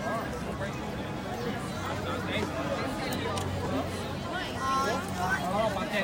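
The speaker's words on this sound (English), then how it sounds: "Alright, the crowd is picking up." Steady babble of a growing crowd gathering for the Carousel of Progress show, many overlapping voices at moderate distance with footsteps and a few nearer speakers mixed in.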